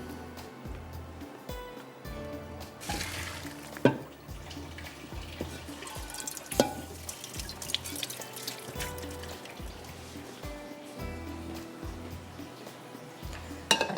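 Water poured out of a pot of minced meat while cooking yakhni, a splashing, trickling pour into a sink with a few clinks of the pot, steady and close, with no talking.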